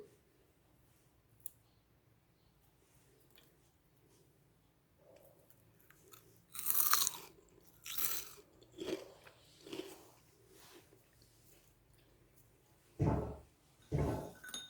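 Crisp crunching bites of crispy homemade fries in short bursts with quiet pauses between, close to the microphone, plus a few faint clicks; no talking.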